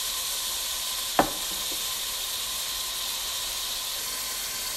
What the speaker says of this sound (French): Et je vais les laisser frire.